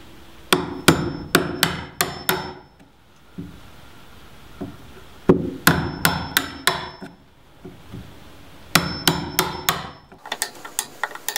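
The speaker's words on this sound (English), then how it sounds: "Now we can use the chisel." Hammer blows drive a chisel into wood for a Dutch door on a tiny house build, sharp close taps in quick bursts of four or five strikes separated by short pauses.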